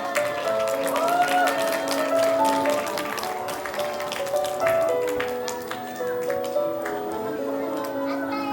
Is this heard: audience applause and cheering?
yes